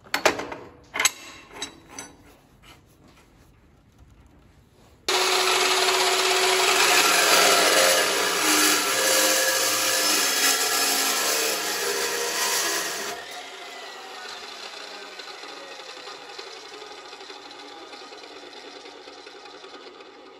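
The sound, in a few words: dry cut saw cutting steel drill pipe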